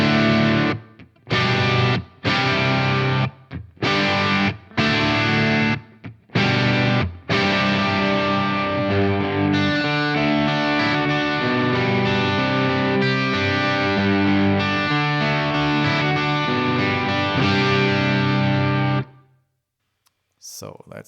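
Two overdubbed electric guitars, one on the neck pickup and one on the bridge pickup, both through the same Marshall amp setup, play loud distorted chords. Stabbing, stop-start hits give way to sustained strumming before ending abruptly.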